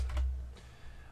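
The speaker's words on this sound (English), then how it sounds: "Let me just type that in." Brief burst of typing on a computer keyboard, a few quick close key clicks alone without talk.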